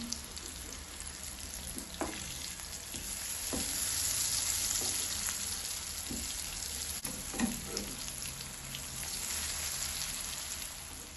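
Pieces for a vegetarian fish gravy sizzle steadily in hot oil, a close, continuous crackle with occasional louder pops as they fry and are turned.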